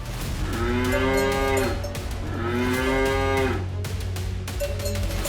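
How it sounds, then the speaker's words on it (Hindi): A cow lows nearby in a village setting, two long, loud, drawn-out moos followed by the start of a third against a faint outdoor background. "श्रृंगा से गाय के रंभाने की आवाज़ आया"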